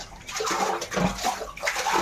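Water poured out during cleaning of a dirty, iron-stained rooftop water tank, a close, continuous sloshing gush with uneven surges.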